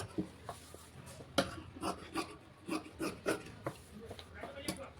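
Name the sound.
scissors cutting blouse fabric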